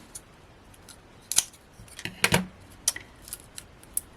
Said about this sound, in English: which does mean I'm going to have to snip, I'm afraid